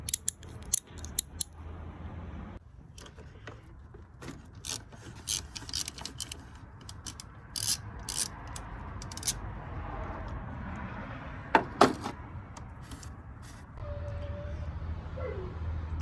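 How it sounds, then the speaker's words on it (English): Ratcheting clicks, metallic scrapes and tool rattles nearby as bolts are removed beneath the oil cooler hose on a BMW N54 engine, in irregular bursts with quieter pauses between them. "So we just removed the bolts."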